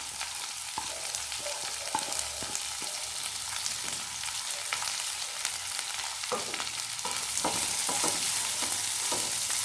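A small, finely chopped onion fries in a pan for a jackfruit seed fry, giving a steady close sizzle with scattered stirring scrapes and clinks that grow a little louder toward the end.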